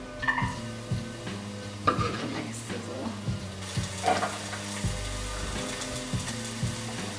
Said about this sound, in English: I'm going to go ahead and add the garlic and onion